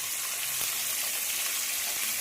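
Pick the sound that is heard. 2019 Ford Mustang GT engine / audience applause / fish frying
fish frying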